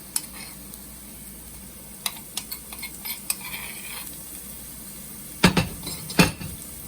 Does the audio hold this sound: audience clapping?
no